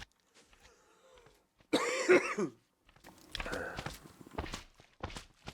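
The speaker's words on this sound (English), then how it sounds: "I have a cough coming." A single harsh cough bursts out at close range, preceded by faint shuffling and followed by some low speech and rustling.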